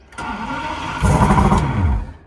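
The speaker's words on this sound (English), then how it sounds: "The engine works great. I mean, I can turn this thing on right now. It'll still fire up." A small two-stroke engine on a project boat, run out of the water, cranks and catches close by, rising into a loud, rough burst of running before it is quickly shut off.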